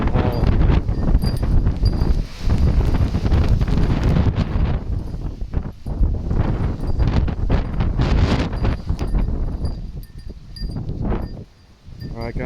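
Strong gusts from Storm Darragh roar through a UK tropical-style garden, buffeting the microphone in loud, sustained bursts with brief lulls near the end.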